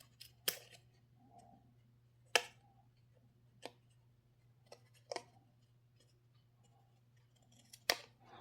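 Scissors trimming the jagged edges of a handmade card, a few sharp, distinct snips spaced out over a quiet background with a low steady hum.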